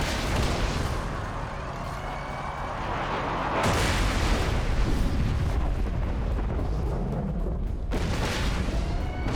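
A Kerblaster gun blasting a boss in a video game, heavy continuous explosive roar with a couple of sharp bursts standing out, loud and dense, no voices.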